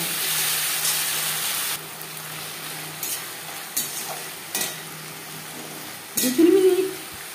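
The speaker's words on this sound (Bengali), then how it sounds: "আর দিয়ে দেব মশলার পেস্ট, যেটা আমি তৈরি করে রেখেছিলাম।" Spice paste frying in a pan for chilli chicken, with soft stirring and scraping at close range and a louder burst of sizzle near the end; no speech.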